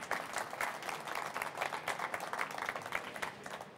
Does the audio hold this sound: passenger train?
no